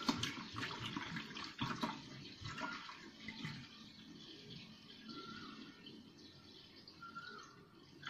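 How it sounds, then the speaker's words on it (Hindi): Water splashes and trickles steadily into a pot for several seconds, a continuous wet pouring sound with no talking. "इतना मैंने इसके अंदर पानी ऐड किया है।"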